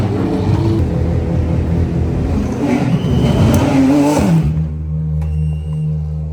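A race car engine drones loudly and steadily under safety car conditions during an Australian circuit race, its pitch rising and falling before it settles into a lower, smoother hum near the end.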